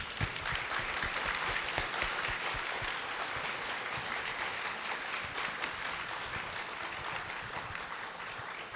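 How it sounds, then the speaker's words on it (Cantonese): An audience at a Hong Kong secondary school's Form Six graduation ceremony applauds warmly. Dense, even clapping fills the room without pause from start to finish. "讓我哋用熱烈嘅掌聲去多謝佢哋。"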